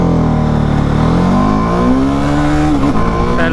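An Apache RR 310 motorcycle revs loud and close, its engine pitch climbing steadily through the gears with a brief dip at a shift near the end, no voices over it.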